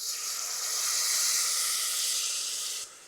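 Water poured into a hot pan of sautéed garlic gives a loud, steady hiss and sizzle of steam that holds for about three seconds, then drops off sharply.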